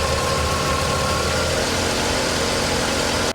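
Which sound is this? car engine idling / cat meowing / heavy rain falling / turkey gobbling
car engine idling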